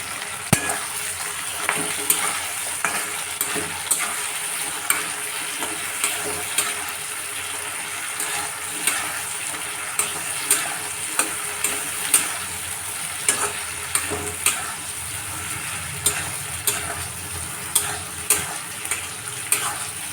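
Ginger, garlic and green chillies fry in hot fish oil in a pan, giving a steady crackling sizzle with regular sharp stirring clicks of a utensil against the pan throughout, close and loud with no talk.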